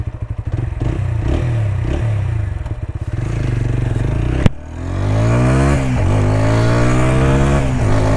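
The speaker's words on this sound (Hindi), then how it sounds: "सो अभी जब हम इसको स्टार्ट करते हैं इसका एग्जॉस्ट साउंड सुनो।" A TVS Apache RTR 160 4V motorcycle's 160cc engine cranks with rapid clattering, then catches with a sharp click and settles into a deep, throbbing exhaust idle that rises in a rev, loud and close.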